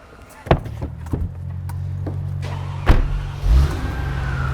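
A broken Mercedes-AMG's engine cranks and catches, with a few sharp clunks, then settles into a steady low idle that surges twice as the throttle is blipped.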